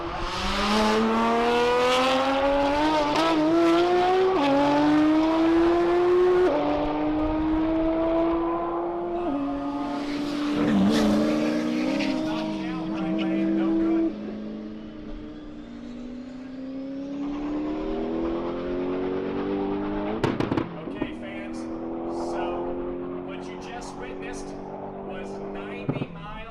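A Nissan GTR and a Corvette racing past in the right lane at a TX2K21 roll-racing event, engines rising in pitch as they accelerate, several loud revving passes with shifts between gears.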